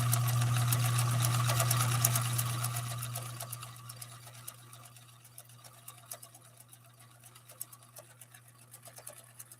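Sewing machine running stitch number 3 on cam A revised: a fast, steady mechanical whir and ticking that is loud at first, then winds down into slower, quieter clicks and taps.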